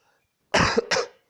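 Two quick, sharp coughs close up, one right after the other, in an otherwise quiet room.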